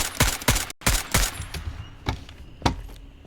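Gunfire from an SKS rifle in the shooter game Incursion Red River: a rapid string of sharp, loud reports with echoing tails, firing in quick bursts then spacing out into slower single shots.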